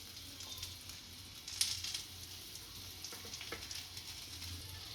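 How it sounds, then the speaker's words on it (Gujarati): Green chilies roasting in oil in a pan for Kathiyawadi gram-flour chilies give a soft, steady sizzle throughout, with a few faint stirring clicks. "આપણા મરચાં સારી રીતના શેકાઈ ગયા છે"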